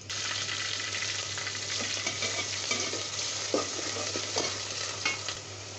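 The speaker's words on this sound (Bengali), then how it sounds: "এখন আমি দিয়ে দিব পেঁয়াজ কুচি, তারপর দিয়ে দিচ্ছি পেঁয়াজ বাটা।" Chopped onion and onion paste fry in hot oil for a beef curry, a continuous close sizzle broken by scattered scraping stirs, with no one speaking.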